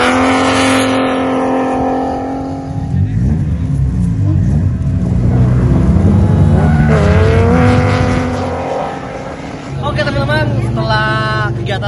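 A drift-spec car drifts at Mandalika Circuit in Lombok, its engine roaring loud and close, revving up and down in long sweeps with tire squeal mixed into the rumble.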